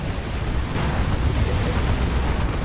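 A rocket run in Dawn of War 2 sets off a continuous, loud, rumbling barrage of explosions, with deep booming that blends into a dense roar.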